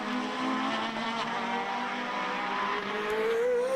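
A Jade Formula BOSS race car accelerates hard down the straight at Mondello Park, its engine note climbing steadily in pitch as it runs through the gears, loud and continuous.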